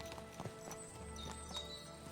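A horse's hooves clip-clop faintly in a steady, uneven gait against a busy background murmur, with what may be a soft whinny mixed in.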